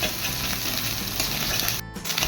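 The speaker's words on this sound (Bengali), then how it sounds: "তো ডিমটা ভাজা হয়ে গেছে" An egg fries in a pan, sending out a loud, dense, continuous sizzle close by, with a brief dip near the end.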